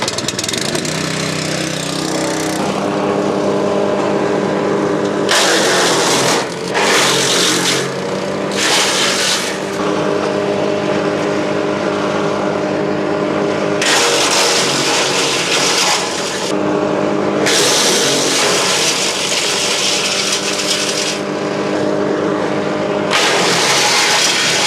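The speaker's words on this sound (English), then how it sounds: "we are going to chip some hazel in each chipper into the wheelbarrows" Hansa wood chipper grinding hazel branches, a loud steady engine roar broken by repeated harsh bursts of crunching as each branch is fed through, continuous and close with no talking.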